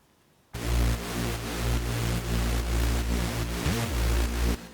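Nexus 'Hit This Man 1' saw bass preset played with its filter fully open, a loud, bright and buzzy sustained bass tone with a steady rhythmic pulse, starting abruptly after a short silence and cutting off cleanly at the end.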